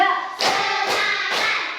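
Students in a classroom ice-breaking routine clap in unison, three sharp group claps spaced about half a second apart over a faint background tone.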